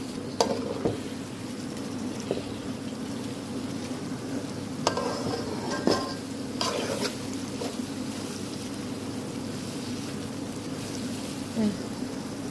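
Three eggs stirred in a pan while making chow mein give a faint, steady cooking hiss with occasional sharp scrapes and clicks of the spatula against the pan, and no voice over it.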